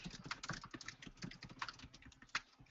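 Rapid clicky keystrokes on a mechanical keyboard run continuously in an irregular, close, fairly quiet rhythm, with a few sharper key hits standing out.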